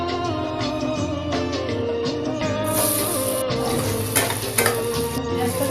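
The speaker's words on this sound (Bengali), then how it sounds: "এদিকে পটল ভাজা চলছে।" Slices of pointed gourd (potol), rubbed with turmeric and salt, frying in a pan at home, a continuous sizzle under clinking utensil and stirring sounds, with a steady background hum throughout.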